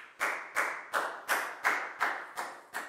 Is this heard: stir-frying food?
no